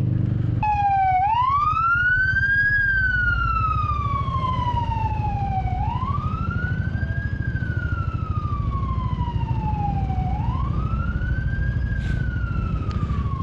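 Wailing emergency vehicle siren, ambulance or fire truck type, heard in traffic during a motorcycle commute: slow rising and falling sweeps repeat steadily and loudly over constant road and engine rumble, with no talking.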